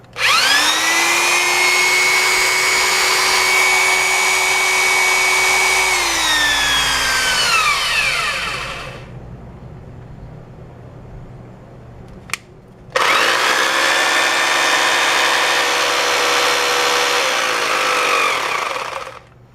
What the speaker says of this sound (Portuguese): Fazendo aqui o teste da furadeira.